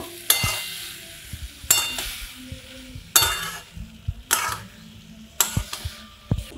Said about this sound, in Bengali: লাবড়াটা ঢেলে দেব। ভালো করে মিশিয়ে নেব।